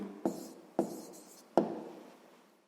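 A pen writes an answer by hand on paper in three short, distinct strokes spaced evenly apart, close and quiet, with nothing else in the room.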